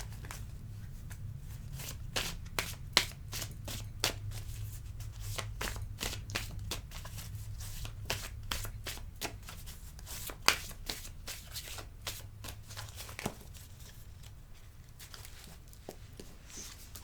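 Tarot cards shuffled by hand in a steady run of crisp riffling snaps and flutters, close and fairly loud, with a low hum underneath and no talking.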